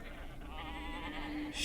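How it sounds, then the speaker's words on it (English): A single sheep gives one drawn-out, trembling bleat, steady and moderately close, with no other sounds around it. "sheep"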